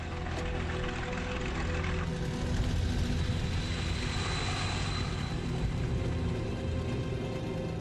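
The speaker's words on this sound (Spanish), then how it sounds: "Despegando de estos campos en la ocupada Francia, los alemanes atacarán caravanas en el canal" German wartime aircraft take off from fields in occupied France, giving a loud, steady propeller-engine roar and rumble that stays continuous and close throughout.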